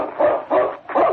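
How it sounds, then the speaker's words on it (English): Dog barking excitedly as a radio drama effect, three loud, close, evenly spaced barks in quick succession. "Then he stopped, sniffing the ground and barking excitedly."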